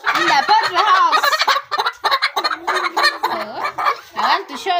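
Chickens in a poultry house make a loud, busy chorus of overlapping clucks and squawking calls that never stops across the whole stretch, with no human voices.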